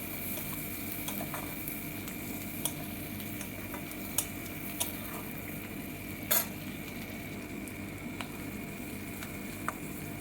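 Vegetables with salt and turmeric sauté quietly in a pan, giving a low continuous sizzle with occasional light ticks and taps from stirring.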